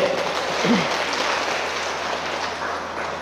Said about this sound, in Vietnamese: Cho bạn một tràng vỗ tay nữa đi